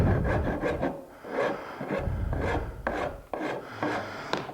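A hand rasp files a wooden tenon on a corner cabinet part in a woodworking shop, with several short rough scraping strokes in an uneven rhythm, close and moderately loud.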